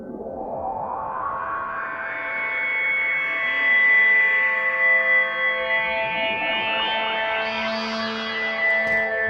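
A synthesized "demon summon" patch built from accordion samples for an Ableton Live pack: a sustained, heavily effected drone with shimmering echoes and chorus, slowly swelling and morphing, growing brighter and busier toward the end, no voices.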